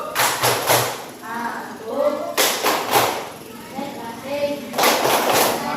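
A class performing a rhythmic focus clap, with quick bursts of claps in a patterned beat separated by pauses. Voices chant along between and over the claps.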